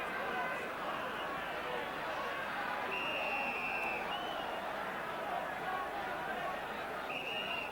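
A football crowd of a little under 20,000 cheers a free kick awarded to West Ham against Everton, a broad, sustained roar and babble from the stands with scattered whistles, far off and steady.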